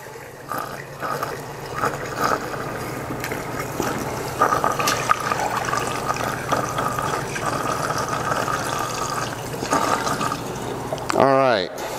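Hot water poured into a glass jar makes a steady, close filling and trickling sound with a low hum underneath, and a short burst of clinking near the end.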